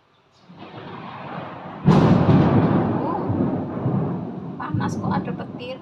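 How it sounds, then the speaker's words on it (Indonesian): Thunder on a hot, sunny day outdoors during cooking: a sudden loud crack followed by a long, rolling rumble that fades slowly, with a voice speaking near the end. "Panas kok, ada petir."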